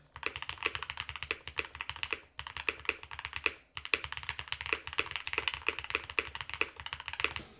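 Rapid, steady typing on a Sonnet mechanical keyboard with an FR4 plate and foam, crisp clacky keystrokes in quick bursts and a couple of brief pauses, close and fairly loud.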